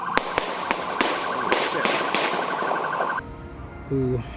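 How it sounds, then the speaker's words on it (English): A rapid series of sharp gunshots cracks out, about a dozen in irregular succession, over a steady alarm-like tone, followed by a brief electronic beep. "The unmistakable sound of gunfire"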